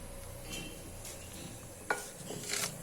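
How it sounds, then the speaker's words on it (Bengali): Nigella seeds and dried red chillies sizzle in hot oil, making a soft, continuous crackle with a few light utensil clinks and scrapes against the pan. "তেলটা গরম হয়ে গেছে কালো জিরে ফোড়ন দিয়ে দিচ্ছি আর দিচ্ছি দুটো শুকনো লঙ্কা"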